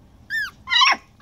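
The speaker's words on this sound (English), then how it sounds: "So Cyrena just barked at me like, hey, pay attention to me." A five-week-old puppy in an outdoor playpen gives a short high whimper, then a sharper yelping bark, both close and clear over quiet background.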